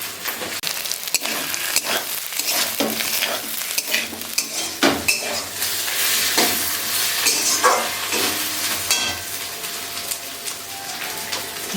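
Garlic and spices frying in a pan, with loud, continuous sizzling and crackling and frequent scraping strokes of a spoon stirring throughout.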